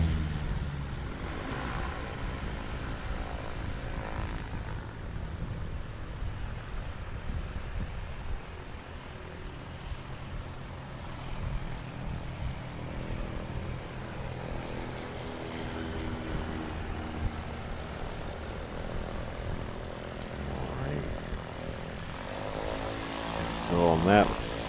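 A STOL tailwheel airplane lands against a left crosswind at a STOL practice event in Sulphur Springs, Texas, its propeller engine droning steadily at mid distance and swelling slightly near the end, while commentators talk over it throughout.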